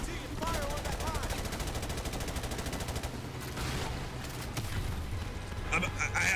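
Rapid bursts of automatic gunfire in Call of Duty Modern Warfare rattle continuously for about three seconds, then give way to scattered shots and booms with game sound effects.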